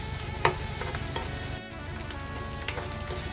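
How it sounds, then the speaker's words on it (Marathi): Tomato gravy goes into a pan of softened onions for a chicken liver masala, setting off a loud, close frying sizzle with a couple of sharp spatters and a brief dip in the middle. "मग आपण टॅमॅटोची ग्रेव्ही घालूया"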